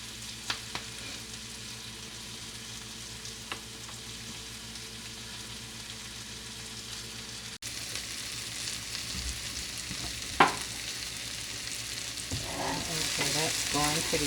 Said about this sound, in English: With the butter and the sweet onion and the sweet bell peppers. You just want to saute it